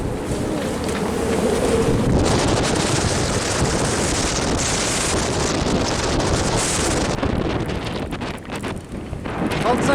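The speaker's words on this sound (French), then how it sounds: "Et il y a énormément de vent, donc 25 nœuds à 30 nœuds de vent du sud" Strong 25 to 30 knot south wind at sea off the Canary Islands roars and buffets across the microphone, mixed with rushing water and the wash of waves, continuous and loud throughout.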